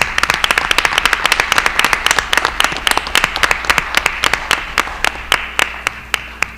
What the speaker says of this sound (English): Let's give a round of applause to all our candidates here.